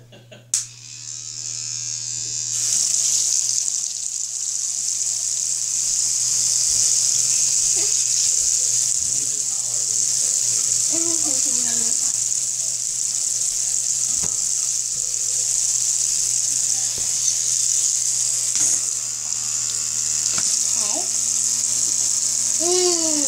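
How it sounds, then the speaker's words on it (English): Teeth being brushed at a bathroom sink while the tap runs, a steady continuous hiss of running water throughout with scrubbing underneath and occasional voices in the background. "I had to brush my teeth."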